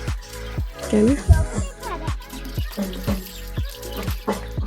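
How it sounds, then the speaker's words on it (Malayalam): Water runs and splashes in bursts, close and fairly loud, as a child is bathed while a person talks over it. "ജിംബ്രോനെ ഒന്ന് കുളിപ്പിച്ചാലോ"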